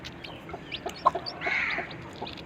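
Broody hen clucking in short soft bursts alongside a drawn-out higher call, close by in a quiet farmyard setting with no voices.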